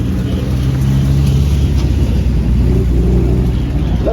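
A 1961 Ferrari 250 GT race car running on a circuit, a loud steady engine drone with a low throaty tone that holds throughout and never clearly fades.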